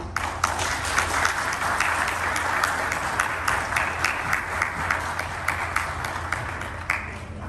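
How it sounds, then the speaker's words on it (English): Audience applause at a Xiaomi Redmi Note 11 series launch event in Oman, a steady wash of many hands clapping that holds evenly for several seconds with scattered sharper claps, moderately distant and without speech. "And a round of applause for Mr. Eric Wang."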